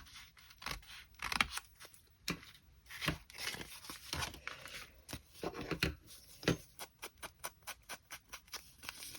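Scissors snip through paper for a festive Christmas craft, a close, quiet run of short irregular cuts and crinkles with small pauses between them, with no talking.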